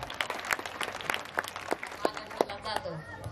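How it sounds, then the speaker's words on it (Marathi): An audience at a women's event applauds at a lively, irregular pace, mostly with sharp close claps over a few seconds, while voices talk underneath. "जोरदार टाळ्या"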